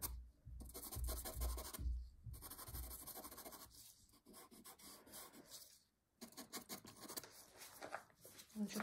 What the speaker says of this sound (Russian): То есть просто отштриховываем, размазываем.